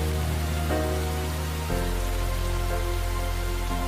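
Heavy rain pours in a dense, constant hiss, loud and close, with a low steady rumble beneath and a slight shift in tone midway.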